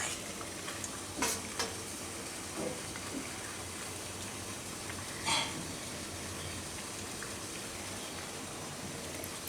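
Chana muthiya, Gujarati gram-flour dumplings, frying in oil in a pan, a steady continuous sizzle with a few brief louder crackles, no voices.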